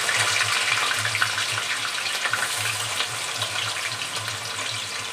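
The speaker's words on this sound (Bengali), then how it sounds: "আলুটা লাল করে ভেজে তুলে নেব।" Small diced potatoes fry in hot oil with a bay leaf in a pan, giving a loud, steady broadband sizzle that runs throughout without talk.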